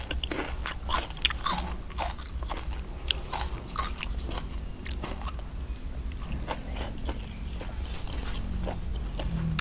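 Crispy Thai pork belly from a street food stall is bitten and chewed up close, with a quick series of sharp, loud crackling crunches and scraping chews repeating irregularly throughout.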